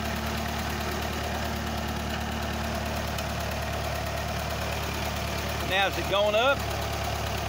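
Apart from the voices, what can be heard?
Ferguson TE20 tractor engine running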